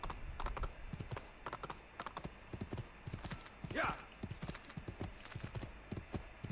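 Rapid hoofbeats clip-clop in a steady galloping rhythm in Assassin's Creed II, with a brief horse whinny in the middle; the sound is crisp and game-like.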